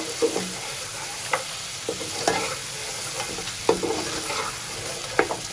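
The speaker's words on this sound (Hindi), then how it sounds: "दो मिनट तक अदरक लहसुन के साथ फ्राई करेंगे गोश्त को" Mutton sizzles steadily with ginger and garlic in a hot pan while a utensil stirs and scrapes it every second or so, with no talking.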